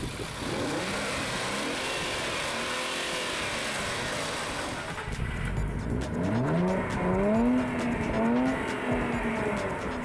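A brand-new Infiniti Q60 Red Sport on a test drive, heard from inside the cabin: a steady engine hum that swells into rising revs as the car accelerates through gears, moderately loud with no talk.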